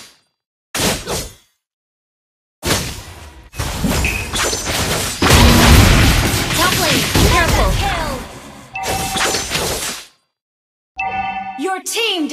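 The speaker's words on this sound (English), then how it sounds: "Your team destroyed a turret." Mobile Legends turret destruction during Hayabusa gameplay: heavy thuds, crashing impacts and whooshing effects in bursts separated by silence, with a dense loud section in the middle and a game voice announcement near the end.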